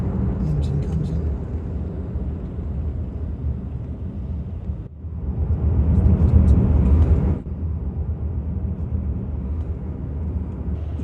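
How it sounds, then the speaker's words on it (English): Nissan X-Trail e-Power petrol engine starting up mid-drive, a deeper droning rumble swelling over steady road and cabin noise for a few seconds before easing back down. "So when there's extra power required, or when the battery gets low, the engine comes in."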